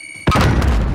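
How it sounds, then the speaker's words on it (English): A Call of Duty frag grenade explodes in a single sudden, heavy boom, close and loud, followed by a brief rumbling tail. "Throwing frag."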